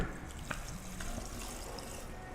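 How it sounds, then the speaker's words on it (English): Brine pours steadily into a fermented hot sauce mixture, making a continuous watery splashing and trickling sound close by for a couple of seconds. "Now I'm going to pour the brine into the mixture"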